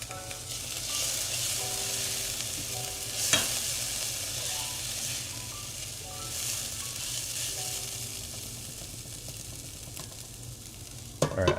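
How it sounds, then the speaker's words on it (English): Onions fry in a pan for chicken tikka masala with a steady sizzle, while a spoon stirs with occasional scrapes and a sharper clack near the end. "After I give this a stir."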